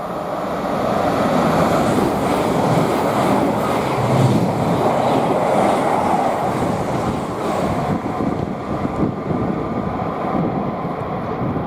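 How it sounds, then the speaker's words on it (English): A Thameslink Class 700 electric train passes at Potters Bar on the East Coast Main Line, a sustained close rumble and rushing roar with rhythmic wheel clatter, fading slightly toward the end. "This one is a Thameslink 700 heading from Horsham to Peterborough."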